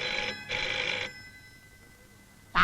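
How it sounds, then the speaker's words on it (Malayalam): An old-style telephone bell rings in two bursts, a pause, then rings again, close and clear against a quiet room. "നേരം എടുത്തില്ല അപ്പോഴേക്ക് ഫോൺ കളി തുടങ്ങി"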